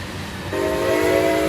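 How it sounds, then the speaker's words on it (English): A train in the Roblox game RO-Scale rumbles past close by, then sounds a sustained steady whistle that starts midway and holds loud to the end. "And there goes the whistle again."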